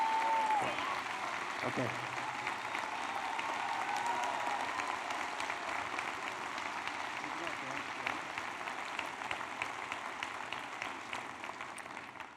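A large commencement audience in a hall at a college graduation keeps up a long, steady round of applause that fades slightly toward the end, with a brief spoken word near the start.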